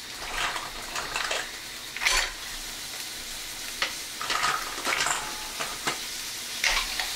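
Garlic and onions sautéing in a pan for mussels in white wine sauce, a bright sizzle broken by repeated bursts of stirring and scraping, close and fairly loud, with no speech.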